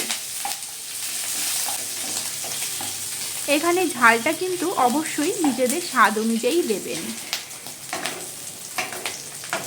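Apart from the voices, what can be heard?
cumin, ginger paste, green chilies stir-frying in oil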